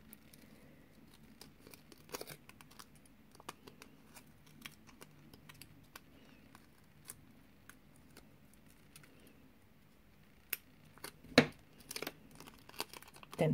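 Scissors trim a nail form, making a series of small, sharp snips and faint crinkles scattered across a quiet background, with a louder cluster of cuts toward the end.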